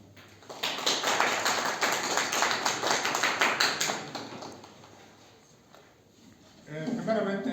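An audience at a school symposium on violence applauds to welcome a speaker, with dense clapping filling the room for several seconds before it fades and a voice begins talking.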